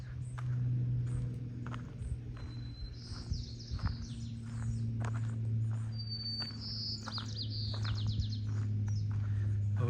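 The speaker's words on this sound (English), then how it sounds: "It's the white-crowned sparrow making all that noise." A white-crowned sparrow sings outdoors on an island, its bright whistled phrases repeating a few times over a steady low hum, with insects chirring and faint footsteps in the background.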